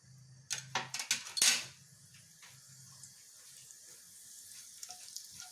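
Cumin seeds drop into hot peanut oil with a sudden burst of sizzling crackle that quickly settles into a quieter, faint fry.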